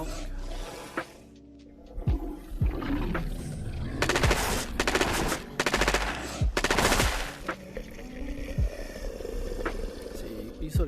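Gunfire in the VR shooter Razorwind on Quest 2: several rapid bursts of automatic fire, loud and close, with a voice talking between and over them.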